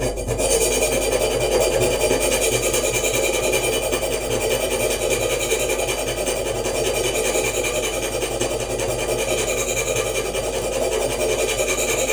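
A Grand Way knife is sharpened on a CBN (elbor) stone in a Hapstone RS guided sharpener. The blade makes a steady, continuous rasping scrape against the abrasive, close and fairly loud, with no pauses.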